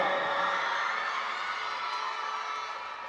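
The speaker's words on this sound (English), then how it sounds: "Buoyed by a very loud crowd behind them." A loud crowd cheers and roars at a schools league girls' U19 basketball final, with a sustained, dense wall of noise that fades slightly toward the end and no clear individual voices.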